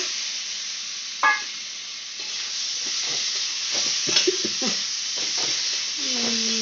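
Fried potatoes are stirred into a sizzling spice masala in a pan, a steady close hiss of frying broken by scraping spoon strokes and a few knocks, with faint background noise.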